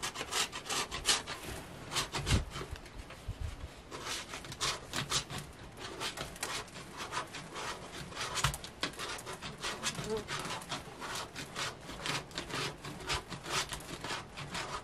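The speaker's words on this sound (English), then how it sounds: "I just got a grater, see? And then I'll grate this in there." A bar being rubbed quickly against a hand grater, fast raspy scraping strokes repeating steadily at close range for several seconds.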